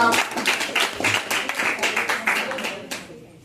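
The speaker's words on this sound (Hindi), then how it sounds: "एक बार जोरदार ताली बजाइए" A crowd at an Indian poetry recital claps in a dense burst of applause that tapers off toward the end, with voices mixed in.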